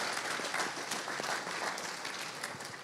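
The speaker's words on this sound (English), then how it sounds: "yeah, go ahead, clap," Conference audience at the NorthSec 2023 stage clapping, a dense continuous patter of applause from a crowd that slowly fades toward the end.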